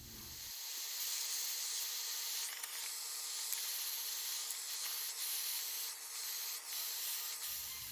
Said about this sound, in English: spray her down with a little oil